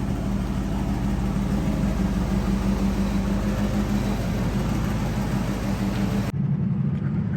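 A 1979 Pontiac Firebird Formula runs and drives on cleared winter roads, giving a steady, low engine rumble heard from inside that cuts off abruptly near the end.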